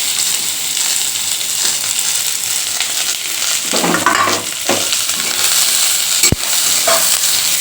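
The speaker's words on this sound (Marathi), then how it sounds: "कांदा मोठ्या गॅसवरती मी भाजणार आहे." Onion frying in a pan on a high gas flame makes a loud, continuous sizzle with a constant hissing crackle and a few soft clatters from stirring.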